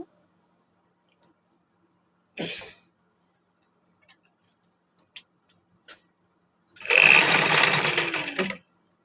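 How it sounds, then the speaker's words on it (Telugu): A sewing machine stitching the back piece of a blouse, with a short whirring burst followed by a longer steady run of rapid stitching, close and loud, amid faint scattered ticks in quiet surroundings. "నెమ్మదిగా జాగ్రత్తగా స్టిచ్ చేసుకోవాలి"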